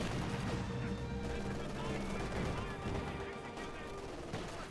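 Machine guns rattle in a Company of Heroes 2 battle on the World War II strategy game's field, continuous dense crackling fire mixed with distant booms under a steady wash of battle noise and a talking voice.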